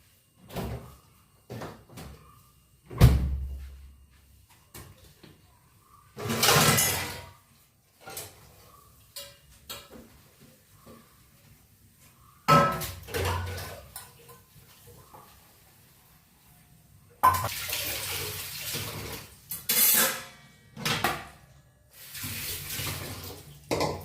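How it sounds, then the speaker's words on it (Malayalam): Dishes are washed in a kitchen sink: intermittent bursts of running tap water alternate with clinks, knocks and clatter of utensils, all close by and with no talking. "ഇനി നമുക്ക് കുറച്ച് പാത്രം ഉണ്ട് കേട്ടോ സിങ്കില് അതൊക്കെ ഒന്ന് കഴുകി വൃത്തിയാക്കി എടുക്കാം"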